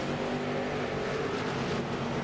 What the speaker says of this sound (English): Green flag in the air,